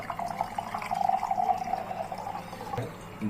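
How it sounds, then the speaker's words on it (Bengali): Water is poured into a container for washing fruit, a soft trickling flow with light splashes that runs for a few seconds and then ends with a brief knock. "আমি ফলটা ধোয়ার জন্য এখানে পানি নিলাম"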